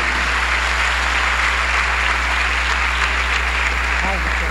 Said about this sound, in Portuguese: com uma linda salva de palmas, vamos trazer ao altar Bispo Daniel Anacleto